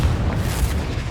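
A Confringo fire spell explodes in the Hogwarts Legacy wizarding video game, giving a loud, sustained low boom that rumbles steadily through the whole moment with no speech.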